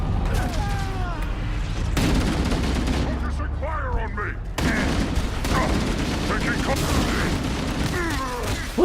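SMG fire in Halo 2 rattles out in rapid bursts amid heavier shots and booms, with whooshing effects and a player talking over the chaotic exchange.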